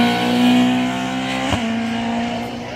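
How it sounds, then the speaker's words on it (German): A BMW M3 E30 race car at a hill climb near Hauenstein, its loud engine holding a high steady note with a sharp gear-change blip midway, then easing off and fading slightly. "BMW M3 E30"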